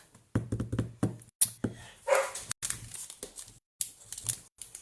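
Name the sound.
dog barking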